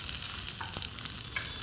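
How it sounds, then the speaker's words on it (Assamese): Almonds and raisins fry in ghee in a pan, giving a steady close sizzle with a few faint scrapes and clicks across the short stretch. No one speaks. "এতিয়া আলমন্ড আৰু কিশমিশখিনি অলপ ভাজি লম"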